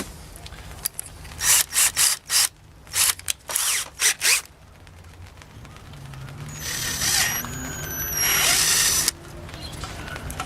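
Close power drill with an 8.5mm bit whirring in short repeated bursts, then a longer sustained drilling run into a pipe for a chicken waterer, with a rising whine.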